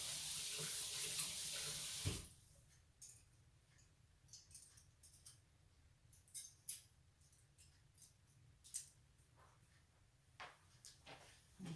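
Kitchen tap water running loud and steady for about two seconds while a mixer is rinsed for cake baking, then it shuts off, followed by faint clinks and small handling knocks of utensils.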